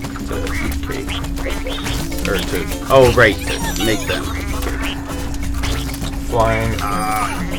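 In the video game Rayman Legends, a duck quacks in a couple of short nasal bursts over a steady game hum while someone talks throughout.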